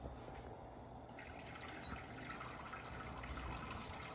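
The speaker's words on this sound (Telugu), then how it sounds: "ఇంకొంచెం నాకు వాటర్ ఇవ్వమ్మా ఆ కప్తో" Water poured from a cup while cooking Andhra vada, a soft continuous trickle and splash close by, quiet and steady throughout with no talking.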